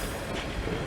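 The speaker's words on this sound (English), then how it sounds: "A pacer train arrives" A Pacer diesel train rumbles past at close range at Manchester Piccadilly station, a continuous low mechanical drone with rail noise and a sharp thump near the end.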